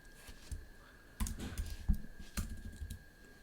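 Fingers type Python code on a computer keyboard, giving quick bursts of close clicking keystrokes with brief pauses between them and no talking.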